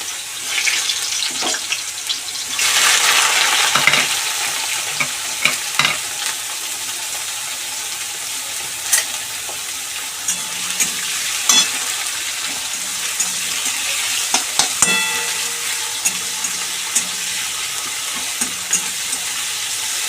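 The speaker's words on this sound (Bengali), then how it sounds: "এখানে পেঁয়াজ রসুন ভাজা ভাজা হয়ে এসছে" Chopped onion and garlic fry in hot oil in a home kitchen pan, a continuous close sizzle broken by stirring scrapes and light utensil knocks, alone without any talking.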